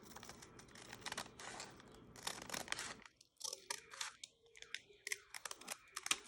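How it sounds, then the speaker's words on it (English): Scissors cutting through a paper bag for a handmade journal, a series of quiet crisp snips and crinkling paper rustles, with softer sweeping cuts in the latter half. "I think I might try the scissors"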